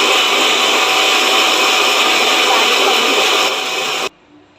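A mixer grinder grinds onion, tomato and garlic with a loud, steady whirring roar for about four seconds, then cuts off abruptly, leaving a quiet room.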